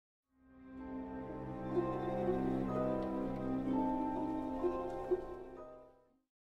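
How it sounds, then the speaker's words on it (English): Orchestral violas split between plucked strings and rapid bowed tremolo, with the section blending into a dense, nervous shimmer that swells in and fades out, quiet and somewhat distant. "Half of them are plucking their strings, and the other half are scraping their bows rapidly back and forth,"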